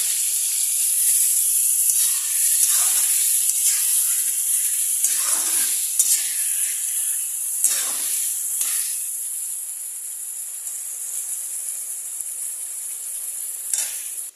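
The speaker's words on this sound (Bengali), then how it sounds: "একটু জল দেওয়া দেবো মশলার থালটার মধ্যে" Loud, steady sizzle and hiss from fried chicken masala in a pan as water is added, with bursts of steam and occasional stirring scrapes over about fourteen seconds.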